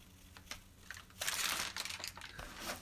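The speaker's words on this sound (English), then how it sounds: "they give us packing paper. Ta-da! Which ruins all sound." Packing paper crinkles and crumples while a craft die and embossing package is unboxed, coming in soft rustling bursts that swell into a louder, sustained crunch midway, close to the mic with no talk.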